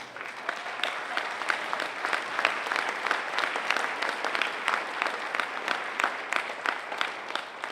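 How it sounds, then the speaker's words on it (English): A steady round of applause from a crowd, dense clapping sustained throughout with no talking over it. "I think we should give him a round of applause right now."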